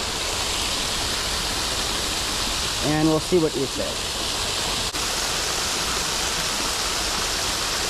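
A waterfall in Central Park, New York City, gives a loud, steady rushing roar that fills the whole scene, with someone speaking briefly over it midway.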